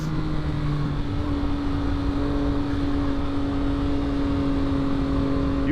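A 2022 Yamaha XSR900 motorcycle engine under way on a twisty road, a steady loud drone with a sustained whine that gradually rises in pitch, wind noise throughout, no talking.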